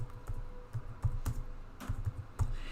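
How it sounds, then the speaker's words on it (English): Keys tapped on a computer keyboard while typing a search, a steady run of close, crisp clicks with a few louder strikes, no voices. "So what you can do is you can type in World War."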